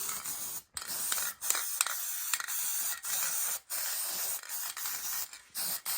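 Short bursts of Rust-Oleum Bright Coat aluminum metal finish spray paint hissing from an aerosol can, close and repeated with brief pauses between sprays.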